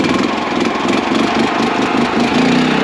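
A small gasoline engine on a cement mixer runs steadily and loudly, a constant close droning rumble with no other sounds over it.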